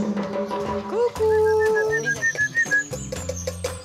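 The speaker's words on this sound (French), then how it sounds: "Alors toi, le petit sifflement" Soft, thin whistling notes drift over a muffled background, with light bird-like chirps and some low clatter.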